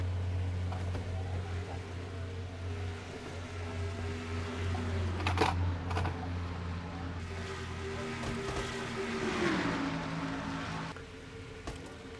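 Race cars in an NNSCRA Castrol GTX Cup sim race, the Peak Antifreeze 400, hold a steady, droning engine note through the corners. The pitch sags and rises again late on, with a brief sharper burst midway.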